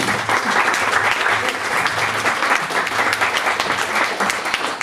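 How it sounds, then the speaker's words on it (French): An audience applauds at a career-guidance event, giving steady, full clapping from a crowd that stays loud and even throughout, with a faint murmur of voices underneath. "Vous pouvez les applaudir."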